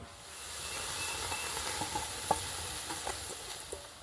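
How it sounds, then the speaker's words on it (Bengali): Strained raw mango pulp hits a hot wok with a broad, steady sizzle and hiss, a few light clinks and scrapes of a spoon scattered through it, close and without talk. "এবারে ছেঁকে রাখা আমের পাল্পটা কড়াইয়ে নিয়ে নেব।"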